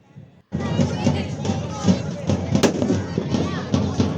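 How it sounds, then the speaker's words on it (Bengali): Firecrackers burst nonstop at a Chhath Puja celebration on its second day, a dense, loud crackle of pops starting abruptly and running throughout over a murmuring crowd and nearby voices. "এত ফটকা ফাটছে"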